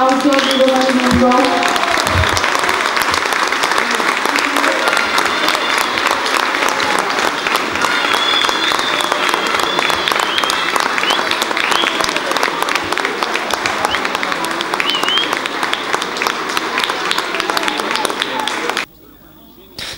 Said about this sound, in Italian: Facciamo un grande e caloroso applauso a Guido Marilungo.